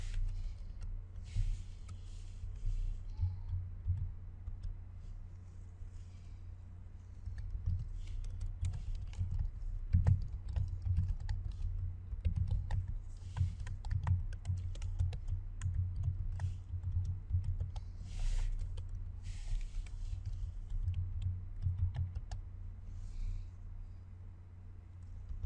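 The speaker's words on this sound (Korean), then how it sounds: "편하게 입력을 하시려면 키보드의 탭 키를 이용해서 입력해 주시면 되겠습니다." Soft, quiet keystrokes patter on a computer keyboard at a steady, irregular pace through most of the stretch, close by over a low background hum.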